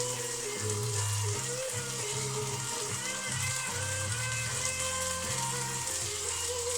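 Onions frying in a pan give a steady, dense sizzle from start to finish, with a low tonal hum or music running underneath.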